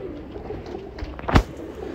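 A pigeon, kept and recovering after medication, gives a single short coo-like call near the end of an otherwise quiet stretch with faint background noise.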